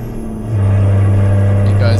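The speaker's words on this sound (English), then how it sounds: "I'm gonna turn on Jake Brake," A heavy truck engine in American Truck Simulator drones loudly and then deepens into a steady, rumbling Jake brake roar that holds without a break.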